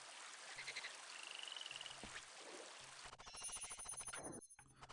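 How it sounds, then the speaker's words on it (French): Croaking toad calls from the Rayman 2 video game, a few short repeated croaks amid busy game music and ambience, with a brief chiming effect near the end and no speech. "J'ai entendu un bruit de crapaud."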